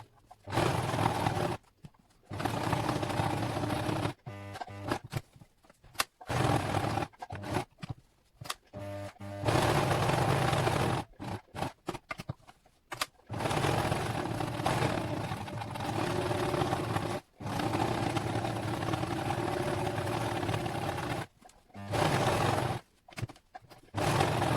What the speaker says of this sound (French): Et on peut coudre.